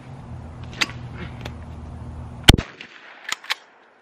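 A shotgun fires once at a self-thrown clay pigeon at a skeet shoot, a single sharp, loud blast that rings out briefly, followed by a few fainter pops and thuds as the outdoor background fades to quiet.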